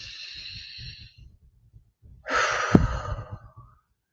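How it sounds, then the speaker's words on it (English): A person takes a slow deep breath: a soft airy inhale, a pause, then a fuller, louder breathy exhale with a brief catch, close to the microphone in a quiet room. "Okay, let's take another deep breath."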